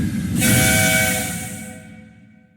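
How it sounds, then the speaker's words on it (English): Gordon the Big Engine, a steam locomotive in Friday Night Funkin, gives a loud whistling blast of steam that hisses in suddenly, holds strong, then fades away over about two seconds. "Gordon the Big Engine let off steam and approached them out of his shed"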